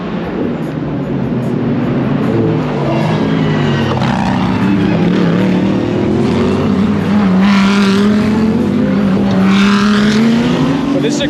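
Race cars in a 24 hour race brake and accelerate through a hairpin close by, loud engines rising and falling in pitch as several pass in succession, with talk faintly beneath.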